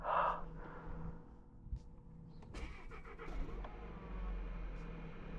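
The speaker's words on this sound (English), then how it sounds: "Let's do a little cold start." At -7.5 degrees, a non-diesel VW Golf mk7 engine is cold-started: faint breathy noises come first, then the engine catches about halfway through and settles into a steady, low idle.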